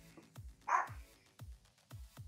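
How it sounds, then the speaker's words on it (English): An excited dog indoors barks about six times in short, evenly spaced bursts, close and fairly loud, with a brief higher yelp or whine among them and no talking. "The dog is alerted. Sorry about the noise."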